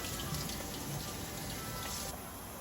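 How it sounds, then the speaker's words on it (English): Fresh tap water runs steadily for rinsing freshly sanitized scissors during homebrew preparation, a continuous close splashing hiss that stays fairly even throughout, with no talking. "Give it one last shake, and I'll actually rinse it off with some fresh water."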